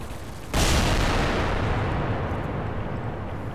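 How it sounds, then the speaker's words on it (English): A grenade blast in Fallout: New Vegas hits suddenly and loudly after a brief quiet moment, then trails into a sustained, dense rumbling roar with no speech. "Fucking grenades, dude."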